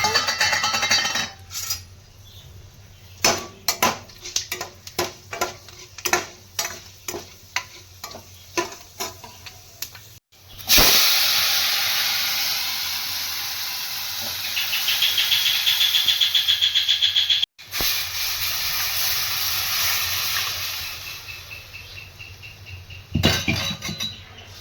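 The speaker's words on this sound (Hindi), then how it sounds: "तेल गरम हो गया है, इसमें डालेंगे थोड़े खड़े मसाले।" Whole dried red chillies, cloves, cardamom, fenugreek seeds and bay leaves hit hot oil for Punjabi kadhi. Scattered clicks and taps come first, then a sudden loud, sustained sizzling hiss that briefly cuts and resumes.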